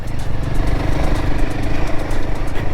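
A Royal Enfield Himalayan 450 motorcycle pulls in third gear, its engine note a steady, loud mid-range drone that climbs slightly as the throttle opens, close and continuous with wind rush over it.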